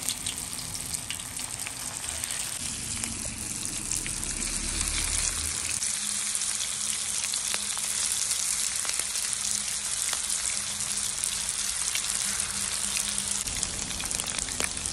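Sardine borek rolls frying in oil, a dense continuous sizzle and bubbling crackle held at a constant close level throughout, with no talking.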